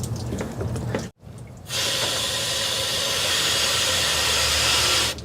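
Coolant hisses steadily from a cracked hose on the engine of an abandoned 1973 Dodge camper, a loud, continuous spray that cuts out briefly, then resumes and runs unbroken for several seconds.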